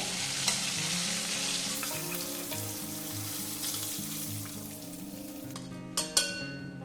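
Fish and panch phoron spices fry in hot oil in a pan, a steady close sizzle and crackle running throughout with a couple of sharper spits near the end, no talking.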